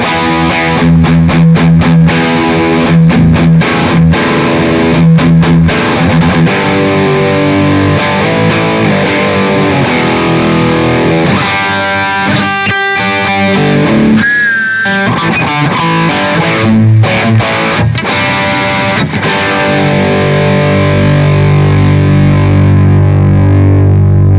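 An electric guitar played through a TC Electronic Dark Matter distortion pedal gives loud, saturated riffs, with choppy chugging strums, ringing sustained chords and a brief pause midway, with no voice over it.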